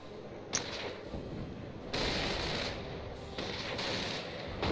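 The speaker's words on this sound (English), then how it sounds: "my guys are firing away at this Vet 1 squad up here" A squad's sustained small-arms gunfire in Company of Heroes 1 on Angonville rattles on steadily in dense bursts, swelling louder at a couple of points, with no talking.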